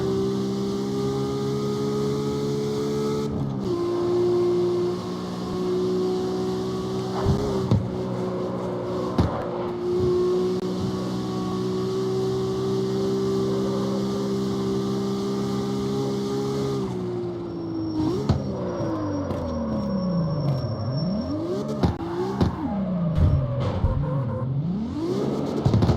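Lamborghini engine in CarX Street holding a steady loud drone with occasional revs, then sweeping up and down in repeated swoops near the end as the car drifts.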